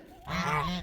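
One short honking call from a Saxony duck sounds nearby, under a second long, against faint outdoor background.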